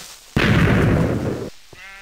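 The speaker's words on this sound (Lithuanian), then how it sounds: "Čia užsprogdino kažkas." A Minecraft explosion goes off as one sudden, loud, broadband blast. It holds as a dense roar for about a second, then cuts off, followed by faint game sounds.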